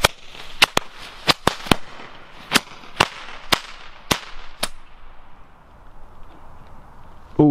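Sharp jumping jack firecracker bangs go off in an irregular string of about a dozen cracks, some fizzing crackle between them, ending with a brief vocal sound.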